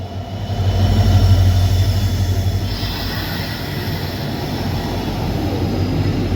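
A Kacheguda–Bhagat Ki Kothi Express pulling out of Purna Junction, its locomotive giving a loud, steady low rumble that swells early and then holds as the train rolls on, with no voices.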